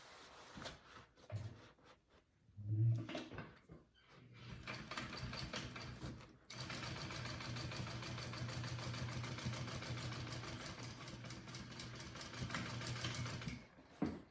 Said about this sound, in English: go ahead and sew that together